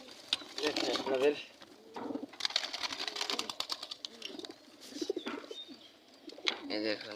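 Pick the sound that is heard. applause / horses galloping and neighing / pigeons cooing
pigeons cooing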